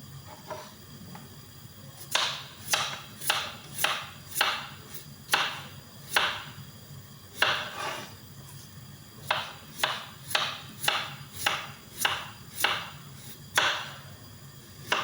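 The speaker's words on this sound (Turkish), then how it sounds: "Şimdi yuvarlak şekilde kesip kızartacağım." Steady knife chops on a cutting board as potatoes are sliced into rounds, a brisk regular rhythm of crisp cuts up close, no talking.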